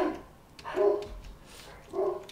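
A dog barks in the video game Minecraft: three short, moderately faint barks with pauses between them. No talk is heard over them.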